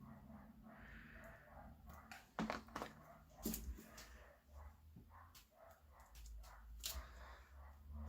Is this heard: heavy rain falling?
no